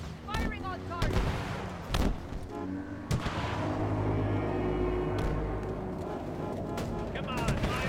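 A Halo Infinite campaign battle at an excavation site, with loud heavy gunfire and booming blasts under a dense rumbling roar. Voices speak over the shooting.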